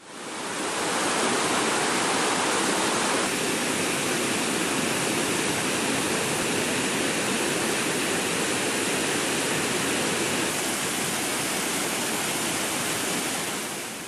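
Kumbakkarai falls in flood after heavy rain, a steady, loud, broadband roar of rushing water that holds constant throughout with no voices.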